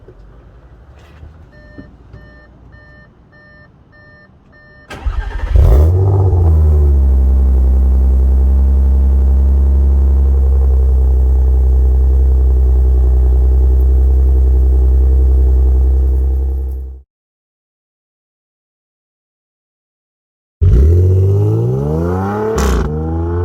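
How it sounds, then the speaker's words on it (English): An Audi S5 cold start with the exhaust valves open: a starter whir bursts into a loud, booming idle that holds steady for about ten seconds, cuts off, then the engine fires up again. "we're gonna get the first proper cold start of the S5"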